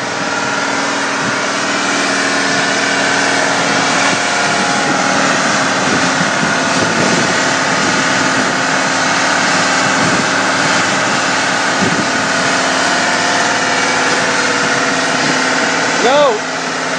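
A semi truck engine idles loud and steady close by while blowing coolant onto the road, a continuous rumbling drone with a slight wavering that holds for the whole stretch and has no speech over it.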